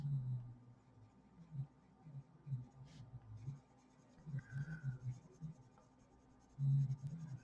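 Colored pencil pressed hard on paper, scratchy rhythmic strokes close up, quiet with brief louder bursts of scribbling.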